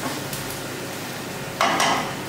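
Onions softening in a frying pan give a low, steady sizzle, with a couple of brief scrapes or stirs near the start and a louder stirring burst toward the end.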